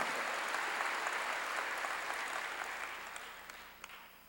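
Sustained church congregation applause, a dense broadband wash of many hands that holds steady and slowly fades toward the end, a few sharper claps near the close.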